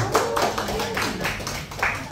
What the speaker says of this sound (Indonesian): Tepuk tangan dong buat Daniel Mananta